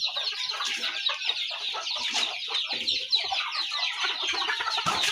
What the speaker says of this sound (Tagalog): yung ating mga manok mga kaibigan